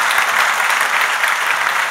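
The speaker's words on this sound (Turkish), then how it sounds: "Alkışlıyoruz arkadaşlarımızı." A studio audience at a Turkish comedy show applauds performers stepping forward, a dense, loud, steady wash of many hands clapping throughout, without speech.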